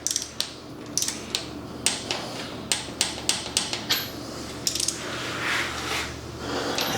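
Bolts on an engine's air cleaner installation being torqued down with a wrench, a rapid series of sharp metallic clicks and taps in irregular bursts, close and distinct over a low steady background hum.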